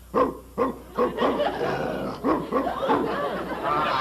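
A human voice imitates a big dog with a string of deep, gruff woofs at an uneven pace, loud and close, trailing into a rougher growl-like bark at the end.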